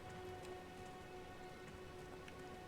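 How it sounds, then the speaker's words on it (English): Steady rain falls in Elden Ring as a dense, even hiss of drops on the ground. It is soft and constant throughout, with no voices. "it's starting to rain"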